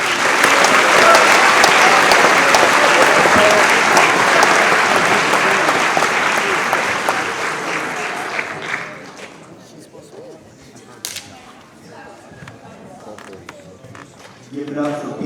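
A loud crowd of clapping hands fills a school senior awards ceremony for about eight seconds, then drops away abruptly to quiet room noise with scattered thumps, creaks and a few late claps.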